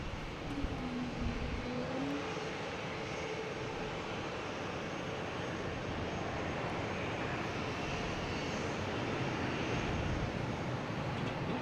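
An American Airlines Airbus A321 takes off at Boston Logan, a sustained broadband engine roar that builds slightly, steady and moderately distant.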